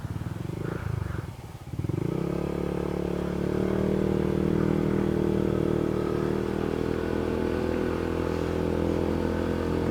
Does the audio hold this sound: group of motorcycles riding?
yes